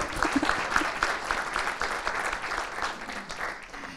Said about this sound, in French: Déjà, vous pouvez les applaudir.